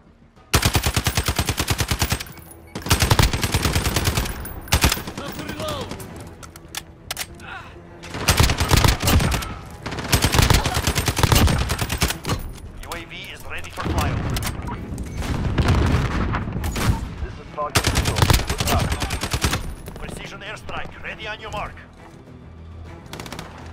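Loud, close gunfire from a first-person shooter game comes in long automatic bursts with short pauses between them, plus occasional heavier booms, and a player's voice speaks faintly in the background.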